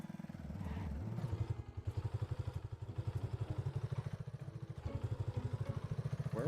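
A video game motorcycle engine putters with a rapid, regular chugging pulse, steady and fairly quiet, with rising and falling revs as the courier rides along.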